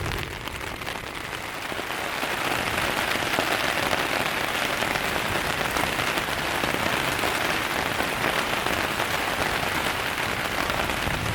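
Steady, heavy rain drums on surfaces while strong wind roars through, a dense continuous wash that swells after the first couple of seconds and holds loud, with no talking, on a lakeshore trail hike.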